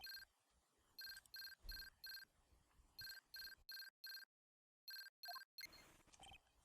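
A transceiver rings in the Phoenix Wright: Justice for All video game, repeated electronic ringtone bursts in short rhythmic groups with brief silent gaps between them.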